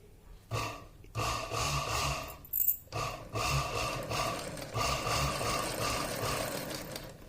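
A sewing machine runs in steady bursts while stitching a fall along the edge of a saree, close and fairly loud, with brief pauses between runs.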